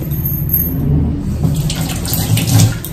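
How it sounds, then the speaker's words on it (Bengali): Water pouring steadily to water houseplants at home, a close, continuous splashing trickle lasting a few seconds with no talk. "এবার শুধু গাছগুলো একটু জল দিতে হবে।"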